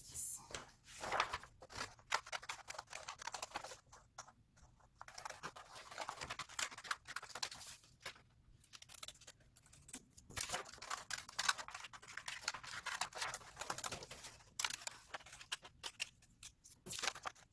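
Scissors cut out paper pieces for a bookmark craft in a series of close, crisp snips and rustles at an uneven pace, quiet and steady, with occasional brief pauses and no voice in between.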